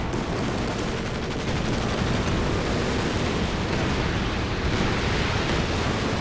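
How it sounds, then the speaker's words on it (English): An anti-tank artillery overwatch barrage in Company of Heroes 2 keeps up a dense, continuous roar of blasts and gunfire, loud and unbroken throughout with no clear gaps and no talking. "Here comes the artillery. Anti-tank artillery overwatch."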